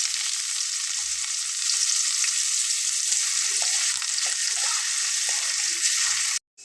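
Chopped onions drop into hot oil already crackling with whole cumin seeds, a loud, even sizzle that carries on steadily for several seconds before cutting off abruptly.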